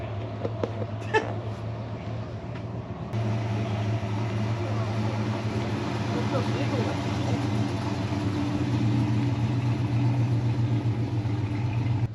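A steady low Cummins diesel truck engine rumble idling throughout, loud and close, with voices talking over it.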